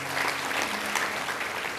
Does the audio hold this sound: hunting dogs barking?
no